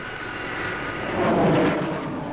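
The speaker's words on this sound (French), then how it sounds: "Avec ses 4 turbopropulseurs qui soufflent l'air de leurs hélices dans une voilure à portance variable, le Breguet 941 est un appareil révolutionnaire" Breguet 941 four-turboprop transport aircraft at the 1963 Paris Air Show, a steady broadband engine and propeller roar that swells slightly midway, heard continuously from a moderate distance without talk.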